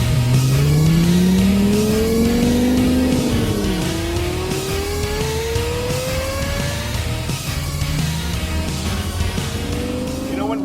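A Lexus LFA Spyder engine revs hard and loud, its pitch climbing and falling through gear changes as it accelerates and downshifts, sustained and close.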